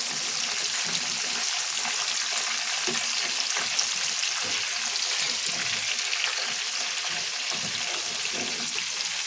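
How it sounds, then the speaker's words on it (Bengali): Catla fish heads frying in hot oil for a muri ghonto curry, a steady dense sizzle and crackle running evenly throughout with no voices. "আর একগুলো দিছি এখান থেকে ভাজতে"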